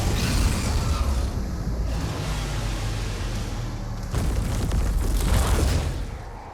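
Explosion in the video game Doom: The Dark Ages, a sustained roaring blast with heavy low rumble and crackling debris, swelling again in a second loud burst near the end, with no talk.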